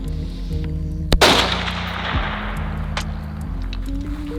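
One close, loud rifle gunshot rings out on a hog hunt with a thermal-equipped setup, a sharp crack with a brief decaying tail over a steady low hum and background noise.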